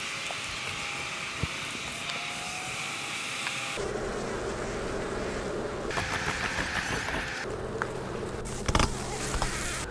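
Honey bees buzz around an open queenless hive during a beekeeping inspection, a dense, continuous close hum that shifts in tone as the swarm moves, with no talk.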